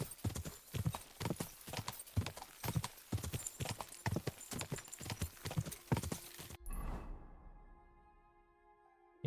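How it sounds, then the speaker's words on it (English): Steady rhythmic hoofbeats of a galloping horse in the video game Kingdom Come: Deliverance II, loud and close, then abruptly stopping into near silence with a faint lingering tone. "I'm seeing a horse be just all around better than Pebbles"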